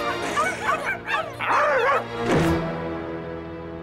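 Cartoon puppies bark and yip in quick bursts, loud and close, with high voiced cries rising and falling before fading into a quieter tail.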